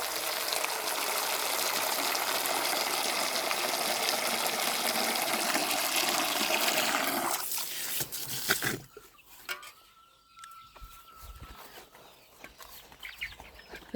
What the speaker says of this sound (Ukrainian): О, водички зразу наберу, нехай п'ють.